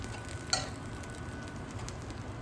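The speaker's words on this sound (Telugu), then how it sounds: "పప్పు వేసుకొని యాడ్ చేసి ఇలాగా తిప్పుకొని" Dal stirred into a sizzling tempering in a pan for tomato pappu, a steady frying hiss with a single sharp clink of the spoon against the pan early on.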